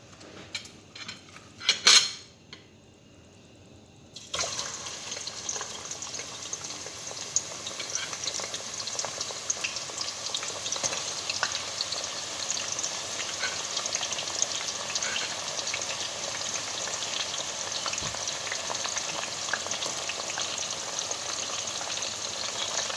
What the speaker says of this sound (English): So right now the oil is hot. I'm going to be putting my onions.